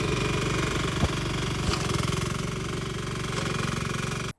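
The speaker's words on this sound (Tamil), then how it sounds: "இன்னைக்கு நான் உங்களுக்கு கொண்டு வந்திருக்கிற ஒரு மெஷின் என்னதுன்னா ஆர்சி ஃப்ளைல் மோவர்" A remote-controlled flail mower's engine runs close and loud, a steady throbbing drone with a rapid pulsing beat, stopping abruptly at the end.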